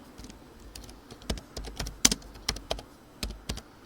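Computer keyboard typing while Python input code is entered, heard as irregular clusters of close, crisp key clicks with brief pauses between bursts, no voices.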